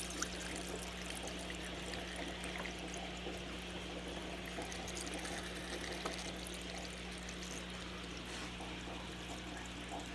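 Aquarium water draining through a siphon hose during a bucket-less water change, a steady continuous pouring and trickling flow, low and even in level for the whole stretch, with no voices.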